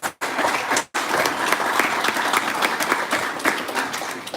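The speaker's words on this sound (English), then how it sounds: "give a round of applause" Audience applause at a township board meeting, dense clapping from a roomful of people that cuts out briefly twice early on and then runs steady and loud, with no talk over it.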